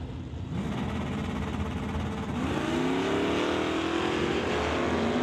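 A Fox-body LS Mustang and a 66 Cutlass drag race and accelerate hard, a loud sustained engine roar whose pitch climbs steadily as they pull away down the strip.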